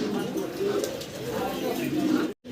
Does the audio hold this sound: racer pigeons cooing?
yes